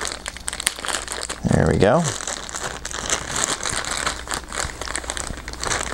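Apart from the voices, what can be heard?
pulling tape off the packaging while unboxing a Zoom H1 recorder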